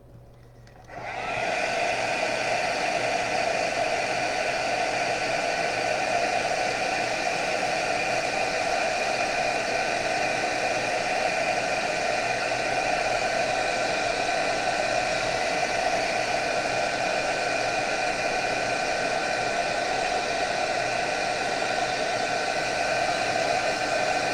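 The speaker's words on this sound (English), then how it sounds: "let's just melt this clear embossing powder" A heat tool blowing hot air to melt clear embossing powder, switching on and then roaring steadily and loudly without a break for over twenty seconds.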